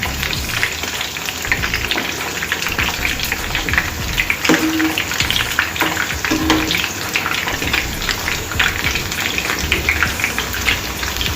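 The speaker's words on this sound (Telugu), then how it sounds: "ఇంకో సైడ్ కూడా ఇలానే వేయించుకోవాలి." Onion bread snacks frying in a pan of oil, a dense, continuous close sizzle with crackling bursts and no talking.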